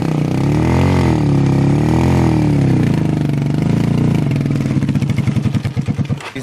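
Motorcycles and other vehicles on a badly damaged access road in Batiam, Bamboutos, rumble loudly with a wavering engine drone that breaks into a fast, chugging pulse near the end.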